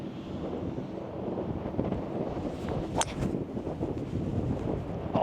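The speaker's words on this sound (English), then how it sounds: "Tiernan 18's a tough one to finish back into the breeze." A breeze buffeting across an Irish links golf course, a steady rushing roar of wind against the microphone with gusty swells, heard outdoors and alone.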